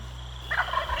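Wild turkeys gobble off the roost at dawn in a Michigan field, a loud rattling gobble bursting in halfway through after a quiet start with steady low background hum.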